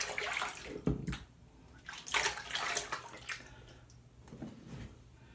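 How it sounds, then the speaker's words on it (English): Hands and soap are rinsed under running water during a wet shave routine, giving irregular splashing and sloshing bursts with a steady water rush behind them, close and fairly quiet, with no talk. "rinse off the hands real quick"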